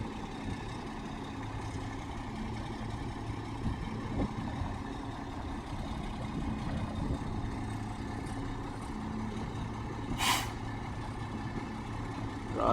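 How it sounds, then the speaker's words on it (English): A Sutera crane truck's diesel engine runs in a steady, moderate idle throughout, with a brief hiss of air midway and no talk. "This is our Sutera truck."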